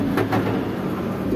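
A large yellow King pigeon, a female, cooing close by in a short run of soft, low, throaty pulses over a steady low rumble.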